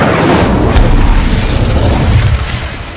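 Incendio fire spell cast in the video game Hogwarts Legacy, a loud, dense booming whoosh that holds steady for a couple of seconds before tapering off.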